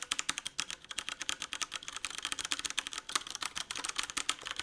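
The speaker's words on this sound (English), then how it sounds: "This model right here comes with the brown switches, which basically have that tactile bump, but no click." A Cooler Master Quickfire Stealth mechanical keyboard with Cherry MX Brown tactile, non-clicky switches is typed on in a fast, steady run of soft, close keystrokes. No speech is heard.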